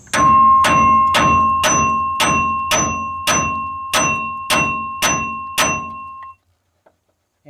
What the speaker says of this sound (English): take a big hammer and hit this a couple times to break this loose a little bit